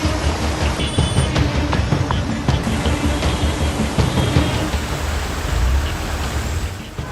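Heavy rain pouring on flooded Mumbai streets, a dense continuous roar of water and splashing with a faint rumble of traffic underneath, loud and steady throughout.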